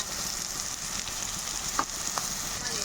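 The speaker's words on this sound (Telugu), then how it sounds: "ఇప్పుడు మనం తయారు చేసుకున్న ఉల్లి కారం ముద్ద వేసుకుందాం" Greens frying in a pan with onion chili paste, a soft steady sizzle at close range with a few light clinks of a spoon.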